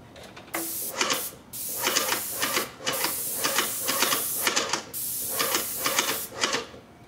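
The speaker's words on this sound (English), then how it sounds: "See how he sprays and he clicks it, but keeps the gun moving after he clicks?" Paint spray gun laying down spot primer onto a surface over a drop cloth, a steady hissing spray broken into repeated short bursts as the trigger clicks on and off, close and fairly loud with no talk.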